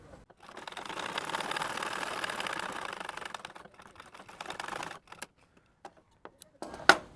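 Sewing machine stitching the back pocket of a pair of pants along a marked line, one steady whirring run of about four and a half seconds, then stopping, followed by a few small handling clicks and taps nearby.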